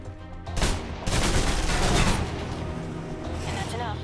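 Rapid submachine gun fire in the video game Alpha Protocol, loud dense bursts of shots starting abruptly and continuing with a mix of game combat noise.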